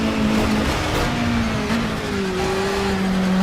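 A car engine in the Project Cars racing game holds a gruff mid-pitched tone, shifts, then climbs steadily in pitch as it accelerates, loud and close with no voices.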